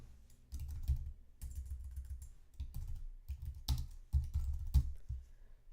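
Typing on a computer keyboard in bursts of quick, close key clicks with short pauses between, entering a garden name in a planning app.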